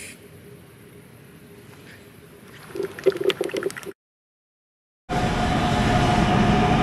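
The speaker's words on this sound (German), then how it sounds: "Unser nächster Zug kommt an." A train pulls into a station in Düsseldorf, a rising rumble with rhythmic clatter, followed after a brief silence by a loud, steady roar of the carriage close by.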